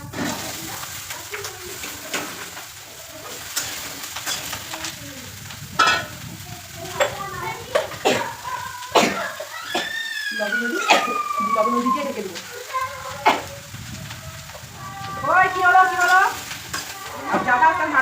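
Vegetable curry sizzling and being stirred in a pan, with clinks and scrapes of a utensil against the pan under a continuous frying hiss, while voices and other household sounds intrude throughout.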